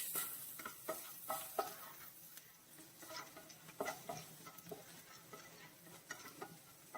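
Crushed garlic cloves frying in a pan with chilli, a faint sizzle with soft scraping and clicking stirs scattered throughout, close by and quiet, with no voices.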